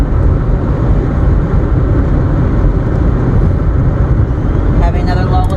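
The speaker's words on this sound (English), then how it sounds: "The noise you hear is my window cracked." Steady rushing wind roar through a cracked car window while driving on a rural highway, a loud continuous broadband whoosh throughout with a faint rattle toward the end.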